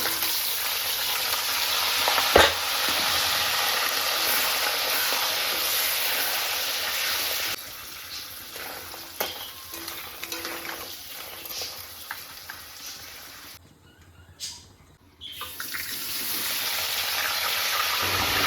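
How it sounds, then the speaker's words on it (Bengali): Crab pieces fry in hot oil for a crab curry, a loud continuous sizzle and crackle with occasional pops and stirring knocks, dipping quieter midway and cutting out briefly before the hissing returns. "কাঁকড়াগুলো দেওয়ার পরে ফেটে ফেটে আসছে"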